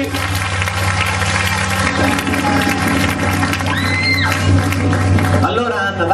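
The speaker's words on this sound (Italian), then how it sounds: "Un applauso a Tezzi." An audience claps, cheers and whoops at a song show in an oratory, a loud, busy mix under music with shouts rising above it and a voice coming in near the end.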